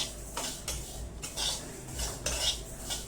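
Sesame seeds and peanuts dry roasting in a pan for garlic coconut chutney, heard as a run of rhythmic metallic scrapes and clinks of a spatula against the pan, close and moderately loud, with no voices.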